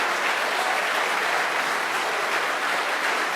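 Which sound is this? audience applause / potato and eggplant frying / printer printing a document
audience applause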